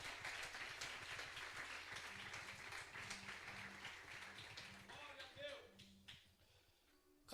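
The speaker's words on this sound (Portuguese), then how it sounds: "Aplauda o Senhor." A church congregation claps together in a sustained, moderately loud round of applause with murmuring voices mixed in, fading out near the end.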